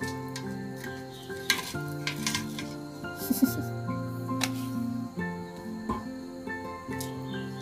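Food is stirred in a frying pan over a hut fire with repeated scraping strokes and occasional utensil knocks, over a low sizzle and faint background tones.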